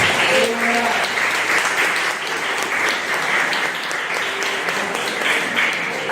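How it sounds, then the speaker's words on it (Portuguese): A church congregation applauds during a worship service, with steady, dense clapping that stays loud for the whole stretch and a few faint voices mixed in. "Dê uma salva de palmas."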